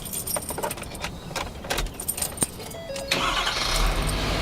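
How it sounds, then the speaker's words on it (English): Keys jingle and clink for a few seconds, then an engine cranks, catches and settles into a steady running rumble. "I'm gonna go ahead and start the truck."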